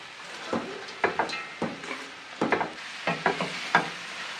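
Vegetables fry in a pan for a cabbage soup, a low sizzle broken by a run of short, knocking scrapes and clatters as they are stirred.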